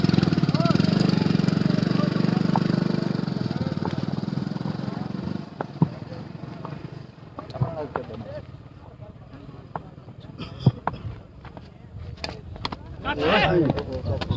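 A motorcycle engine runs close by at an outdoor cricket match, a loud steady idling drone for several seconds that then fades into sharp knocks and scattered noises, with people talking throughout.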